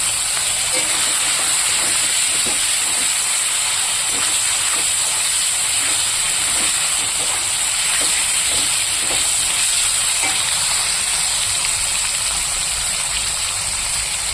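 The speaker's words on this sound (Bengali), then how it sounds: "এই আমি মাছটাকে ভেজে নেব" Dried fish frying in a very hot wok gives a loud, continuous steamy hiss with faint rhythmic crackles running through it, steady from start to finish.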